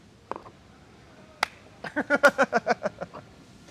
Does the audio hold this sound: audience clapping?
yes